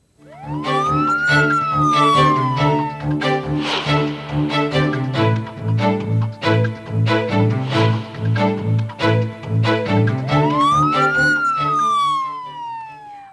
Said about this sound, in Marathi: जो सायरन तुम्ही ऐकता आहात तो सायरन या पुढच्या काळामध्ये आपल्याला ऐकू येणार नाहीये